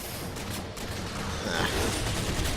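Rapid DMR gunfire and combat noise from the video game Halo 4, dense overlapping shots and bursts at a steady loud level throughout, with no clear talk over it.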